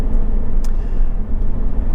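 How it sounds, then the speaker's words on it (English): A Honda Civic 1.8 i-VTEC engine idles steadily and loudly, a low continuous hum with a faint tick or two, heard close up with no talk. "this car's been running for well over half an hour now"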